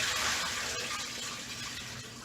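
Water drains from a kitchen sink after a turkey has been flushed and rinsed, a steady close gushing hiss that fades slightly as it runs.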